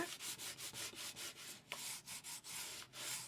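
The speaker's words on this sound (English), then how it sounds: "And I'll give it a good rub." Steady back-and-forth hand rubbing on a paper pad for a traveler's-notebook-style book cover, about a dozen even strokes that are close, brisk and soft, with no voices.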